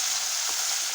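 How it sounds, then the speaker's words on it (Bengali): Ganges morola fish frying in oil in a kadai wok, with a steady, close, bright sizzling hiss that holds evenly throughout. "মাছটা আমি লাল করে ভেজে নেব।"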